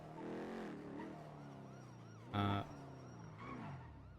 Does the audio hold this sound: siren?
yes